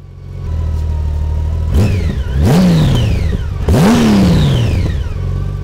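A Honda Gold Wing motorcycle engine idles with a low rumble, then revs up twice in strong rising surges before settling back to idle, loud and close.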